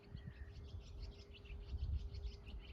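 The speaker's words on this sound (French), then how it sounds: "je qualifierais de passereaux, donc tout ce qui est petits oiseaux, mésanges, etc. qui sont là" Small songbirds such as tits chirp faintly and steadily in the distance around a farm, a thin scatter of quick tweets over low rumbling background noise.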